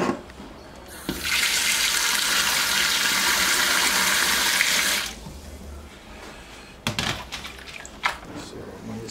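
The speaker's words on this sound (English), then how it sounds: "So I'll put some water in there." A steady gush of running water streams loudly for several seconds, then cuts off, followed by a few clinks and quieter handling noises.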